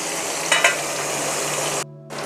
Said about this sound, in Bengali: আমি মাছগুলো এবার একটা একটা করে ভেজে নেব